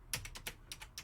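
Quick keystrokes on a computer keyboard, about seven close, light clicks in an uneven rhythm, heard alone.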